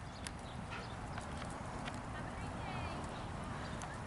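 Horse hooves beat in a steady sitting trot during an English riding lesson, a rider working with stirrups, heard as a continuous muffled clip-clop rhythm under dense, broad arena noise with faint talk in the background.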